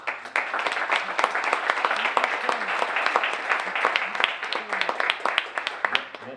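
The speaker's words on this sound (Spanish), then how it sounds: "se ha ganado el aplauso" Audience applause at a round-table legal debate, a sustained run of distinct, fairly close claps from a modest crowd, steady throughout with faint voices underneath.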